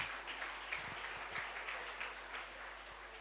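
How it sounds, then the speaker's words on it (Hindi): Faint, distant applause from the audience at a Dalit literature academy award ceremony, a steady wash of scattered clapping continuing evenly throughout. "तो इनके लिए जोरदार तालियां।"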